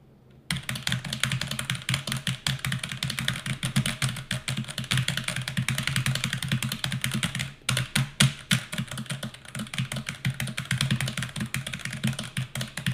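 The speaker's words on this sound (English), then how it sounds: "Are you smashing the keyboard?" Rapid, continuous clacking of keys on a computer keyboard, close and steady with brief pauses, no voices.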